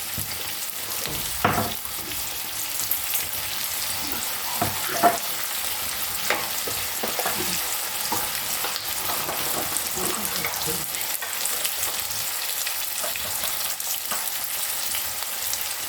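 Red chilli powder fries in a pan of egg chilli mixture, a steady close sizzle broken by scraping stir strokes and soft clatters of the spoon against the pan.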